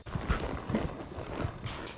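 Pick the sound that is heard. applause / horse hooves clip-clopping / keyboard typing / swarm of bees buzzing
horse hooves clip-clopping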